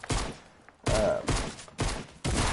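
Gunfire in the Fortnite video game comes in four loud, close bursts of rapid shots with brief gaps between them, punchy and dominant with no speech.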